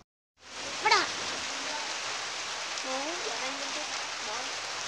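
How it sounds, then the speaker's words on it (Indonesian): Steady rain pours down outdoors by an ATV hill-climbing track, a continuous broadband hiss that starts abruptly and holds at an even level, with a few faint higher chirps above it. "Kita menunggu dulu karena hujan."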